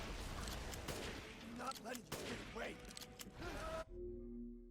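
Gunfire aimed at a boss in the Resident Evil Village video game: rapid shots crackle almost continuously for about four seconds, then cut off abruptly and leave a low hum.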